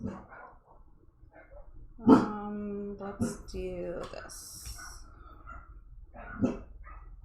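A pet dog barks and whines indoors during a board game session, with one sharp bark standing out above the rest and a few fainter yips around it, all under a person talking nearby.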